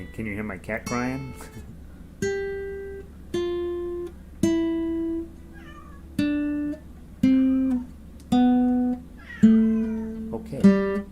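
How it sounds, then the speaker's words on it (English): A cat meows repeatedly, about a dozen drawn-out cries at a steady pace, close by, with some brief plucked guitar notes at the start. "Can you hear my cat crying?"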